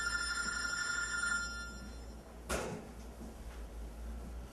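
An old telephone rings with a bright, tonal trill for just over a second, followed later by a single short knock or clunk against a quiet background hum.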